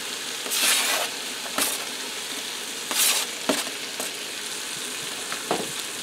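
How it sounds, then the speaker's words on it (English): Onions sizzling in a Power XL air fryer grill combo with the lid off, a soft steady frying hiss broken by several bursts of stirring and light clinks. "Now I'm going to add in my onions. You want to use a lot of onions because they're going to cook down."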